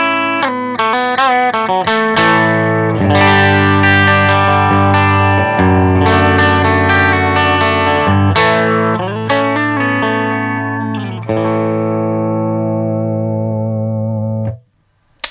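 Electric guitar on its humbucker pickup through an Xotic SP Compressor pedal with the input pad off, played alone as a loud, sustained run of chords and single notes that ring evenly before a clean stop near the end.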